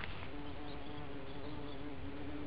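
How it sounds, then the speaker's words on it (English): Bumblebees buzz close by among wild plants in spring, a steady droning hum lasting a couple of seconds with no voices. "2 more bumblebees."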